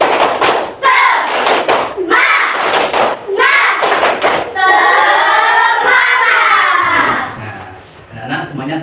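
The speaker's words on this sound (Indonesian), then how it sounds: "Tepuk semangat." A classroom of children in an Islamic religious education lesson claps a rhythmic pattern of quick grouped beats, alternating with loud group chanting and voices, close and lively.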